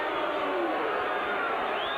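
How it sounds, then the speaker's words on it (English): A boxing arena crowd of Duran fans boos during the Leonard–Duran fight, a dense, continuous roar of many voices filling the whole stretch without a break. "That's getting some boos from Duran fans."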